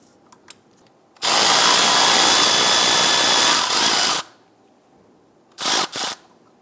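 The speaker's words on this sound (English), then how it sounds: "You need to remove this 10mm bolt." A power tool, likely an impact driver, whirs for about three seconds in a steady loud burst while removing a 10mm bolt on a 2000-2006 Toyota Tundra power steering bracket, followed by two short bursts.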